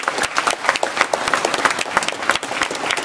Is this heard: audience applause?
yes